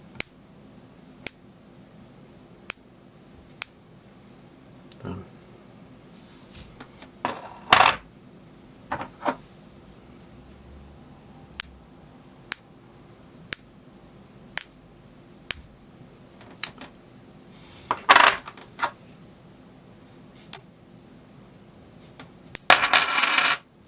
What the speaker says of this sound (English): Every coin will have a different sound to it